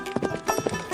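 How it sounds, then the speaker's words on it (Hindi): A horse's hooves clip-clop in a steady walking rhythm while it is ridden out in the evening, close and moderately loud with no voices. "बाबा भारती सुल्तान की पीठ पर सवार होकर घूमने जा रहे थे।"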